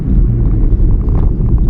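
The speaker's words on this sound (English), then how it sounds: "Full throttle again. I'm doing this so that you can actually like feel the sound of the engine." A 2009 Hyundai i10 engine pulls hard at full throttle in second gear, a steady low droning roar heard from inside the cabin, continuous and loud with a rumbling, buffeting edge.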